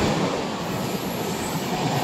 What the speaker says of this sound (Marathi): आपली ट्रेन सुद्धा आली आहे।